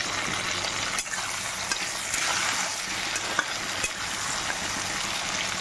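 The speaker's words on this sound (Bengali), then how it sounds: "এবার এটা আমি কড়াইতে ছেড়ে দিলাম।" Onion, tomato and capsicum fry in a hot wok, making a steady, close sizzle with the scrape and clatter of stirring throughout and no talk.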